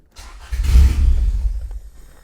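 A B16-swapped 1996 Honda Civic EK hatchback engine cranks briefly, then catches and runs with a loud, close, deep rumble that holds for about a second and a half before dropping away, with no speech.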